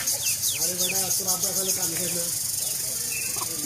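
Young chickens squabbling over fish give off a scatter of quick clucks and chirps close by, with someone talking over them.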